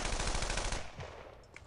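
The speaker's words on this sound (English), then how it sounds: "Heavy base of fire." Rapid machine gun bursts in the World War II shooter Brothers in Arms: Earned in Blood during a hedgerow firefight, loud, dense and continuous for most of a second before fading into a quieter, echoing tail.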